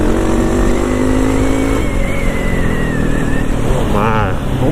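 A motorcycle engine revs loudly and close, its pitch dropping in steps as the rider downshifts, ending in a sharp rising rev, with talking underneath.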